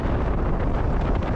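Strong wind buffets the microphone on a Peak District hilltop near Shining Tor, a continuous loud low roar that fills the whole moment with steady gusting and no voice heard.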